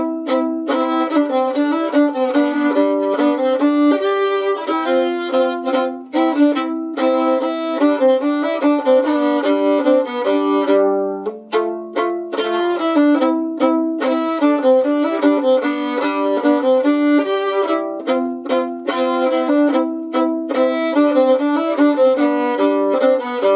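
Solo fiddle plays the B part of the English tune Tea Clipper with dynamic bowing, a steady stream of bright bowed notes rising and swelling in loudness, close and alone for over twenty seconds.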